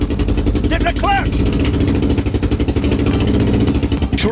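Scrap-built record car with a single four-cylinder engine running loud and close, a steady throbbing drone with rumbling, pulsing texture throughout, while people talk over it.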